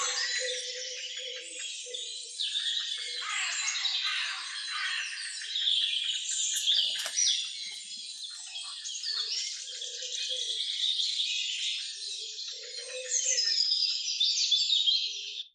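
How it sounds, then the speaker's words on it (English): A dawn chorus of many birds chirping and singing together, dense and continuous, high-pitched calls overlapping throughout with no talking. "So you've got a dawn chorus here."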